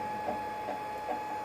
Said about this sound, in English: And this is my beautiful 3D printer.